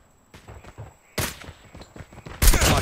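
Sniper gunfire in a COD Mobile clan war match, with several sharp bursts of shots building in loudness and a heavy final volley at the end, no talk.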